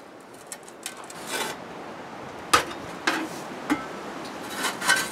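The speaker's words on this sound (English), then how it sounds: "Putting some more dirt on top of the ashes." Dirt being shoveled or dumped onto a bed of ashes under a roof, heard as soft scraping and rasping with a few sharper gritty thumps, close and fairly quiet, no talking.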